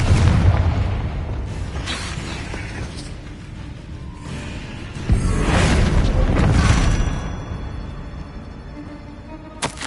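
Hogwarts Legacy spell blasts for Incendio and Confringo erupt as loud booming bursts over a dense rumbling game soundscape, with a sharp swelling impact near the middle.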